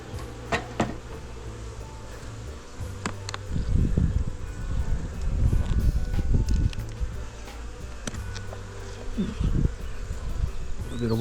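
Honey bees buzzing busily around a hive in the first week of winter. Close, buzzy drones from individual bees pass by over a continuous low hum, with occasional handling rustles and no talk.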